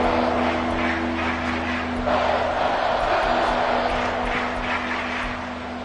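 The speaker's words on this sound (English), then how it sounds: "this crowd trying to force a false start here" Stadium crowd noise from the Madden 24 football video game roars as a dense, sustained wash of cheering and chanting, loud and continuous, with the home crowd trying to force a false start on third and inches.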